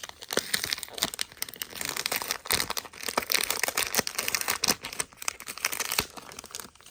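Crinkling and tearing of plastic and paper packaging as a December Daily paper kit is opened, close and irregular with repeated rustles and crunches, no voices over it.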